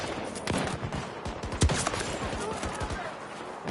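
Gunfire in a shooter video game, a sniper-like weapon firing a few sharp shots spaced through a busy mix of game sound and talk.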